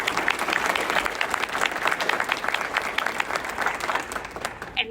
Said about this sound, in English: if we could give Jill and Stacy a big round of applause